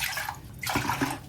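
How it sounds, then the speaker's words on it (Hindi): Water pours into a new kadhai holding semolina for halwa, a short rushing splash that swells and fades over about a second. "इसमें पानी डालूंगी।"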